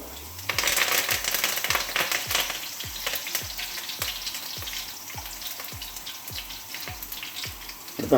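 Curry leaves and chopped ginger sizzle and fry steadily in hot oil for a chicken curry, with a loud continuous crackle and a regular clicking stir or tap about twice a second throughout.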